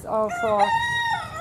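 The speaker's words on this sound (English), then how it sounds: "And we have chicken here." Farm chickens clucking and a rooster crowing with long harmonic calls, close and fairly loud, with brief talk mixed in underneath.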